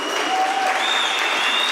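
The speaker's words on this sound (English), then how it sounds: "A round of applause, please." An audience at a South African political election event applauds a speaker, a thick, continuous burst of clapping with a faint thin tone running through it.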